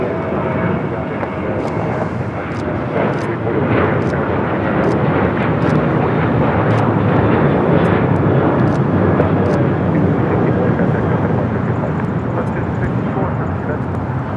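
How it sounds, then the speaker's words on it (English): A Southwest Airlines Boeing 737-800 in Freedom One livery takes off from LAX bound for Phoenix, its jet engines a loud, continuous broadband roar that holds steady throughout, with voices talking over it. "This is Southwest Airlines 264 taking off to Phoenix on a 737-800 in the Freedom 1 livery."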